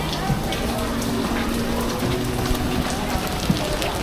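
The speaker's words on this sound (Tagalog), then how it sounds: "Lakas ng ulan." Heavy rain pours down in a steady, dense hiss, drumming on surfaces with no break, loud and close.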